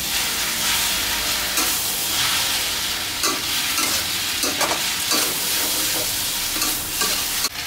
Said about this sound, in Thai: เสร็จแล้วก็ผัดให้เข้ากันนะฮะ